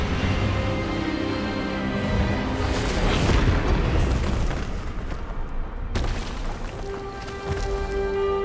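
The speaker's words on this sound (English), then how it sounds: "Expelliarmus!" Magical disarming-spell blast from the Hogwarts Legacy video game, a loud booming burst with a rumbling, crackling tail lasting several seconds, with another sharp impact near the end and no talk.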